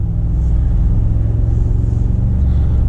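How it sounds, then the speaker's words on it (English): Mercedes G63 AMG SUV on 22-inch wheels driven over a bumpy city road, heard as a steady low engine and road rumble from inside the cabin, continuous and fairly loud with no talk. "We're going to go really bumpy roads here"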